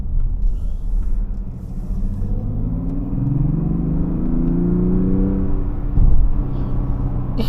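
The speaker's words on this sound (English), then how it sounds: "this is how it sounds when you putting it on sport" The 3.3-litre turbocharged inline-six of a 2024 Mazda CX-60 Takumi in sport mode rises in a smooth, swelling rev with a steady low growl heard from inside the cabin.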